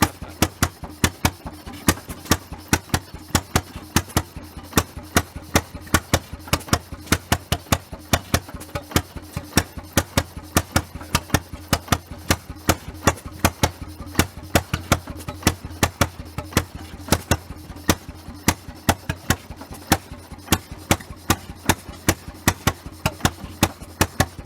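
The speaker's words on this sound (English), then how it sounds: "Running like a new one, Gary." Restored antique gas engine from Lawrence County, Kentucky, once used to run a sorghum press, firing in a steady rapid chugging rhythm at a show crankup, each sharp pop loud and close with no talk.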